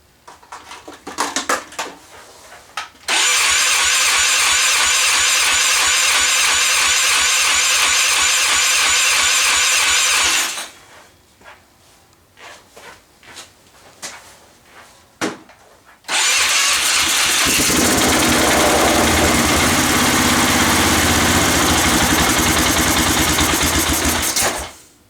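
A Polaris Sportsman 500 ATV engine with a freshly rebuilt carburetor cranks and catches, running loud and steady for about seven seconds, dies into a quieter sputtering stretch, then roars back to a sustained rough idle near the end.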